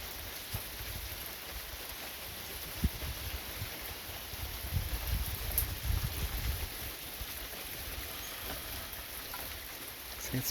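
Steady rain patters and hisses in a continuous wash at night, with a few louder drips and taps standing out now and then.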